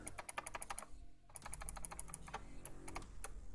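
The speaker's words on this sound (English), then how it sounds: "I pushed the wrong key." Rapid keystrokes on a budget RECCAZR rainbow RGB keyboard, crisp close clicks in quick bursts with a brief pause midway, no talking.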